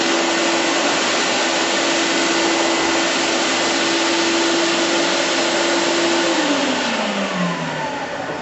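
A floor machine scrubs a floor during stripping, giving a loud, steady motor drone with a constant whine that drops in pitch near the end as the machine slows, with no talking.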